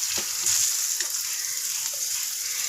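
Moringa puree fries in oil over a medium flame, giving a steady close sizzle with a few soft stirring scrapes and light pops throughout.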